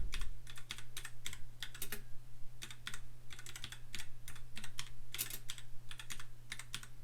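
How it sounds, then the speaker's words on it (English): Typing on a computer keyboard while entering an organisation name into an online form: clusters of quick, light key clicks in short bursts with brief pauses between, close and fairly quiet over a low steady hum. "begin typing the name of the appropriate organisation instead"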